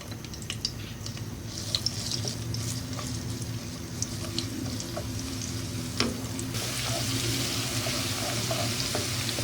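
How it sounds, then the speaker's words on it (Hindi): A steady oily sizzle of garlic and ginger paste frying in a pan, with occasional stirring scrapes and small clinks, quiet and continuous. "एक से 2 मिनट हम इसको फ्राई करेंगे।"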